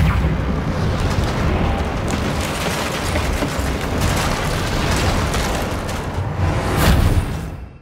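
A Confringo explosion spell in Hogwarts Legacy gives a loud, rumbling blast that sustains for several seconds, swells near the end and then cuts off abruptly.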